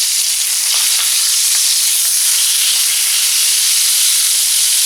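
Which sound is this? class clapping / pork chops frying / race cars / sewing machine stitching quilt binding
pork chops frying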